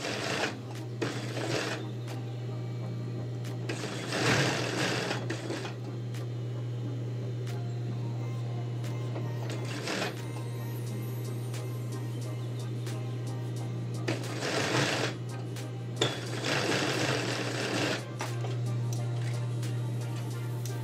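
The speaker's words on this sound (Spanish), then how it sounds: "Doblo por mitad, paso una costura para fijarlas, para que no se me rueden." A sewing machine stitches a seam on folded trouser pocket facings in short bursts of rapid mechanical whirring, separated by pauses, over a steady low hum.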